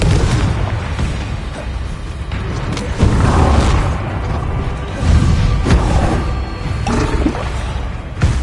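A Confringo fire spell from Hogwarts Legacy goes off in a series of loud, booming blasts with rumbling low-end bursts that follow one another every second or two, spell effects layered over continuous game noise.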